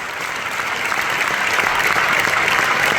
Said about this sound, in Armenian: Հանդիսատեսը շարունակում էր բուռն ծափահարել ու բեմ հրավիրել վարպետին։